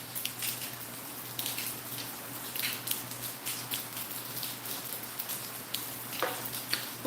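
Rain patters steadily on surfaces outdoors, a soft continuous wash of drops with scattered louder taps, heard alone without voices.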